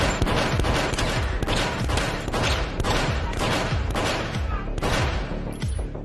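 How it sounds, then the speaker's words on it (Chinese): Gunfire in a crime film scene, a rapid string of sharp, loud cracks following one another across the whole stretch, each with a brief boom trailing off. "对着地上砰地开了一枪。"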